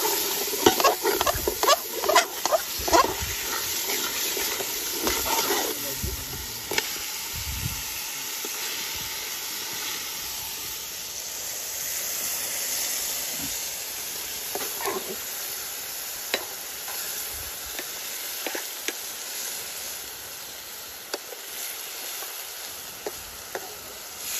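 Mutton curry stirred and fried in a pot at a riverside cook-out: steady frying hiss with a spoon scraping and clattering in irregular bursts, loudest early on and easing later, with no talking.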